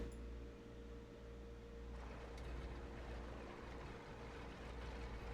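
A Fairey Swordfish biplane engine in Microsoft Flight Simulator cranks and catches, a low droning rumble that swells into a rougher, louder running roar about two seconds in and holds steady, with no talking.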